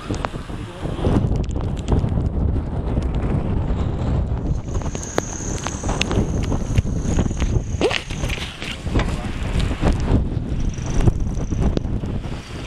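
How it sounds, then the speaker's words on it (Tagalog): Strong, continuous wind buffeting the microphone with a loud low rumble and gusty roar, a faint high whistle drifting through, and occasional footsteps. "Lakas ng hangin, ano?"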